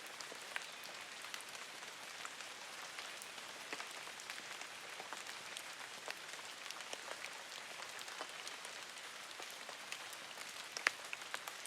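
Soft, steady rain falls with a faint continuous patter of scattered drops, quiet and even, with an occasional sharper drip standing out.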